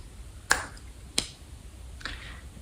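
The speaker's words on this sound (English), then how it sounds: "At the same time, you snap your fingers." Three sharp finger snaps made while a coin is tossed upward, close and crisp, spaced about half a second to a second apart, the last one softer, with no talking.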